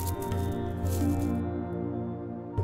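Small cubes of paneer hit hot ghee in a pan and sizzle with a steady, close, continuous crackling hiss that holds for the whole stretch.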